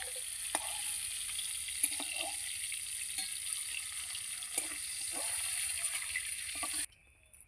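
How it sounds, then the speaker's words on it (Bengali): Cauliflower pieces fry in hot oil with a steady sizzling hiss and a few light clicks of stirring, which stops abruptly near the end. "ফুলকপিটা এইরকম লাল লাল করে ভেজে নিয়েছি"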